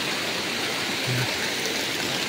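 Spring water flows steadily at its mountain source deep in the forested hills of Matanao, Davao del Sur, a continuous broadband rush close by with no voices.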